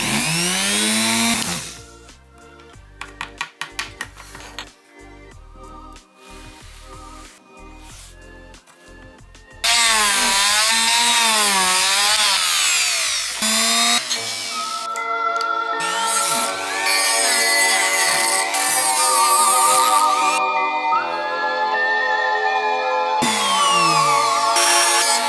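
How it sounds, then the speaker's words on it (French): A power drill boring through carbon fiber, loud and close, with bursts of whining motor that rise and fall in pitch and brief pauses between runs. "Allez, je vais percer."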